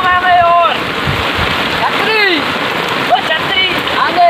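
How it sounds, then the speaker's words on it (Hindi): Heavy monsoon rain pours steadily in a constant loud hiss while a flooded village river surges, with voices and shouts heard faintly over the downpour. "पानी बहुत बरसात बहुत हो रही है"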